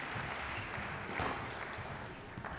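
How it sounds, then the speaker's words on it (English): Steady applause from a spectators' crowd at the 2014 Women's World Squash Championship final at the Wadi Degla Club in Cairo, a dense wash of clapping heard at a moderate distance. "please give them a very nice round of applause"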